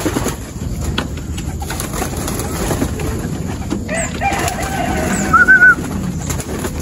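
Racing pigeons at a club training loft in Mabitac, Laguna, with a short burst of cooing near the end over a steady outdoor background.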